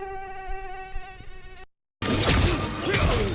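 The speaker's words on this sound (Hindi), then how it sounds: "बीच में मैं थोड़े मच्छर भी मार रहा था।" Mosquitoes whine with a steady high-pitched buzz in a video game, cut off by a brief silence and then followed by a loud, dense burst of game noise.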